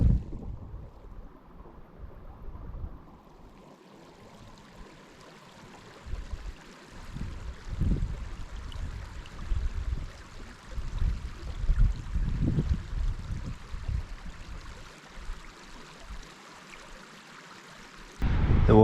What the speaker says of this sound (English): the thing I remember about being here before is the noise of that waterfall